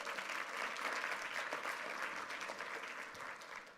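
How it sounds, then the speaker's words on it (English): Steady audience applause from a seminar crowd, dense clapping sustained at an even level for the whole stretch, slightly distant, fading a little at the end. "Give the AV people a round of applause for making this work."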